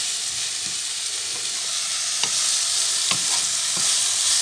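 Mushrooms fry in a pan with a steady broad sizzle, broken by a few light stirring scrapes and small pops; no talking.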